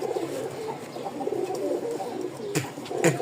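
A male and female pigeon pair coo in soft, repeated low murmurs at close range, over a steady bed of background noise with no talking.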